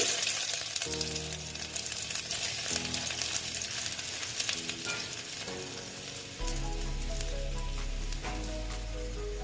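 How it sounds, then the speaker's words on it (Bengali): Black cumin (nigella) and chopped ginger hit hot frying oil along with dried red chilli for a pointed gourd and egg dish, producing a close, steady crackling sizzle that intensifies partway through, with soft background music. "তারপরে দিয়ে দিচ্ছি দেখো কালো জিরে আদা কুচি"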